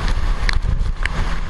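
Super Typhoon Haiyan's strong wind roars steadily with a heavy low rumble, buffeting the microphone in short gusts; no voices.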